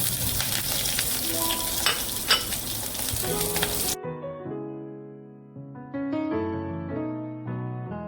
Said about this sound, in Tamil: கடுகு, உளுத்தம்பருப்பு, பச்சை மிளகாய்லாம் போட்டு வதக்கலாம்